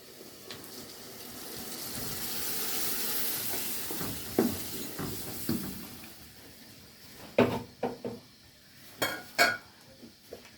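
Green beans sauté in a pan while tomato juice is poured in, a broad sizzle swelling then fading, followed by several clanks of a utensil against the pan.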